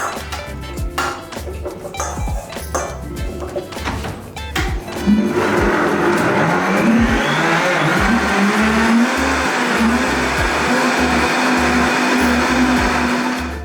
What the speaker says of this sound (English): Transfer everything to a blender.